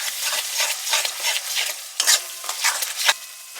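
Masala with yogurt being stir-fried in a pan, close scraping and stirring strokes over a crackling sizzle, coming in irregular bursts with no voices.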